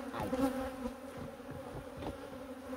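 Honeybees buzz around beehives in autumn, a steady close hum of wings with a few individual bees droning louder as they pass near.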